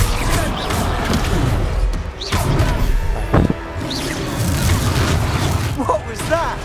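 A Confringo fire spell blasting in Hogwarts Legacy, loud booming impacts with whooshes over a constant game soundscape, several bursts in quick succession while voices talk.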